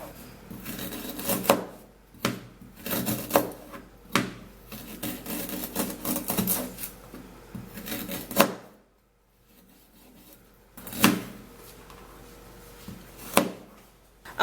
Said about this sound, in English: The next thing you're going to do is to cut it in pieces.